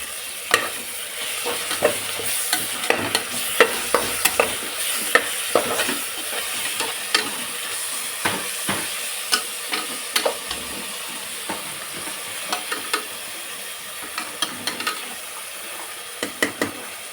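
Garlic paste sizzles and fries in a pan while a spoon stirs it with repeated scraping clicks, cooking for a white hotel-style pulao with field beans and cashews; steady close frying hiss throughout.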